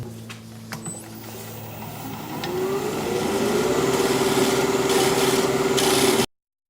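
A lathe tool cuts into a hard laurel wood bowl as a rough scraping rasp that swells louder midway and settles into a steady grinding with a whining tone, then stops abruptly.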